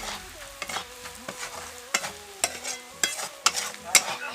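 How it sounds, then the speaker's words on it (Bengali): Chili, turmeric, cumin and coriander powders are stirred in a pan for aloo do pyaza, with rhythmic close scrapes and metal knocks of a spoon about every half second over a low sizzle, and a faint whining hum running underneath. "সব কিছু উপকরণ নাড়াচাড়া করে নেব।"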